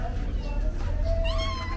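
A cat meows close by, several drawn-out tonal cries while people are eating ramen, with faint voices in the background.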